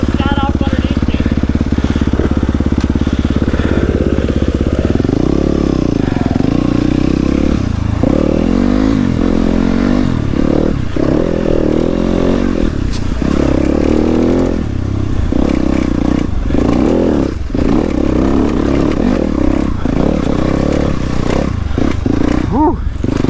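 A dirt bike rides the Holton Loop single-track trail through Michigan woods, its engine loud and close as it revs up and down unevenly, with clattering and scraping from the rough terrain throughout.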